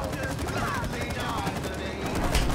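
Rapid gunfire in the video game It Takes Two during a boss fight, with a continuous rattling fusillade of shots throughout amid busy game sounds and light talk.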